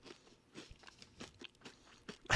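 Crunchy chocolate candy bar with a light chocolate coating, chewed in close, crisp crunching bursts at a steady chewing rhythm, ending on a louder bite.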